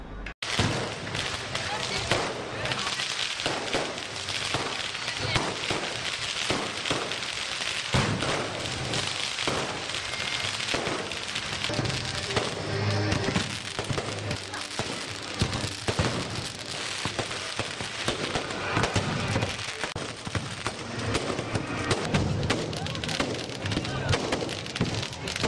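Fireworks at a French Republic Day celebration in Pondicherry, heard as dense continuous crackling and popping with thuds, loud and sustained, and voices mixed in beneath.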